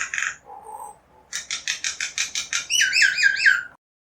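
A vocal bird, a mimic known for whistles, squawks, clicks and growls, gives a short call, a low note, then a rhythmic run of about nine evenly spaced chirps rising into rapid looping whistles, close and clear with no talking.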